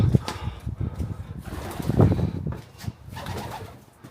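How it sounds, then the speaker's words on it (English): Pigeons coo in a stone interior in the historic town of Conwy, Wales, with soft, low, throaty calls repeating close by, mixed with footsteps and faint rustling. "Some pigeons in here. I need to get past them."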